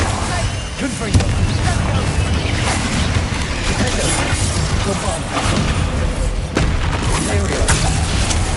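Confringo spell blasts go off in Hogwarts Legacy, with repeated booming impacts and crashing bursts over a dense layer of game combat noise, while someone talks over the action.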